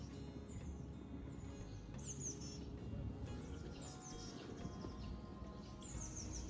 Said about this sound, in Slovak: Len si tu počúvajte tento kľud a jak pekne spievajú vtáčiky.